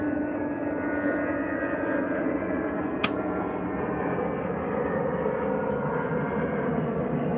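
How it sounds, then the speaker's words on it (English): At night an airplane flies overhead with a sustained, even engine rumble, joined briefly midway by a single sharp click. "That's a plane."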